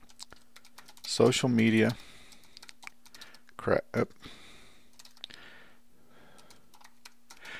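Keys on a computer keyboard click in short, quick bursts, with soft typing scattered between spoken phrases from someone nearby.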